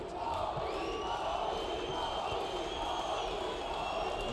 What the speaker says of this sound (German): Und das Publikum brüllt Rocky.